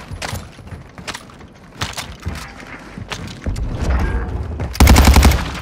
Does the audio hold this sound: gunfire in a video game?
yes